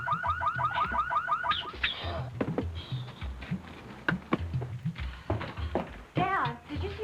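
A car alarm wails in a rapid, repeating warble in a TV horror episode, then cuts off as voices begin speaking over background noise.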